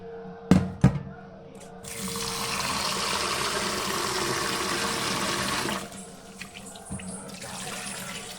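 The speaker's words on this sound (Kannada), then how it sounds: "ಈಗ ಇದಕ್ಕೆ ತಣ್ಣೀರನ್ನು ಹಾಕ್ಕೊಳ್ಳೋಣ" A few metallic clanks, then cold water pours steadily into a pot of boiled potatoes for several seconds before stopping, followed by light handling knocks.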